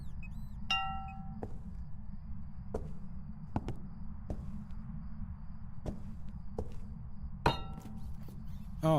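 Within a horror video game, a hammer strikes an object in a few sharp, isolated metallic knocks and clanks, some ringing briefly, spaced irregularly over a low steady rumbling drone.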